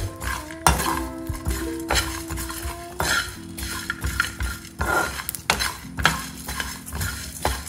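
Whole spices, garlic, ginger, star anise, cloves, peppercorns and cumin, fry on low flame in a pan for pork curry, while a metal spoon scrapes and clinks against the pan in repeated stirring strokes over a faint sizzle, with no talking.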